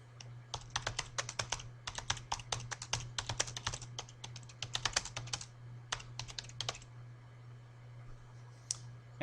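Computer keyboard typing in quick bursts of crisp clicks with brief pauses, close and clear over a steady low electrical hum, ending in quiet.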